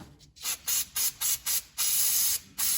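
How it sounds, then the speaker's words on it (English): Short bursts of aerosol brake cleaner hiss onto the ball joints and tie rod of a 2006 Chevy Silverado, about seven close, sharp sprays in an irregular rhythm, one held longer than the rest. "So first I'm gonna clean it up with some brake clean."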